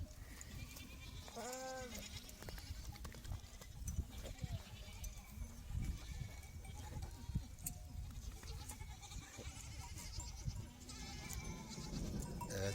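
Goats bleat now and then over a steady rumble of distant thunder, with soft bumping and suckling noises close by as goat kids butt and suckle.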